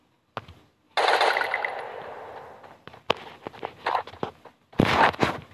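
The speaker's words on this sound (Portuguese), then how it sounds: "Se eu atirar no tambor, o que acontece?" Gunfire in the Free Fire battle royale game aimed at a barrel: a sharp single shot, then a sustained loud burst of automatic fire, scattered cracks and thuds, and another hard burst at the end.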